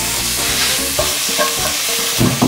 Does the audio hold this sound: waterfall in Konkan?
no